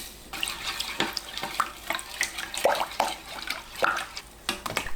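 Water with a spoonful of sea salt being stirred in a bowl, soft close sloshing and trickling with scattered splashy clinks, fairly quiet.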